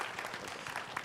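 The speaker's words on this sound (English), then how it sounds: "Give these two a round of applause for a second, okay?" Audience applause at a real estate company summit, a steady wash of clapping from a crowd filling the whole moment without pause, moderately loud and even throughout.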